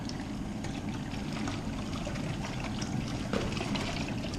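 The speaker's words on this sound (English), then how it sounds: "So it agitates one way clockwise and then counterclockwise." A mini washing machine agitates a tub of water, alternating clockwise and counterclockwise, giving a steady, close churning and sloshing wash that carries on without a break and with no talk.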